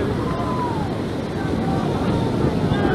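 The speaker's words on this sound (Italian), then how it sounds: "Guardate che onde." Cold-sea waves at a beach during a New Year's Day swim, a steady broadband wash of surf with heavy wind buffeting the microphone throughout, and faint tonal whines drifting above.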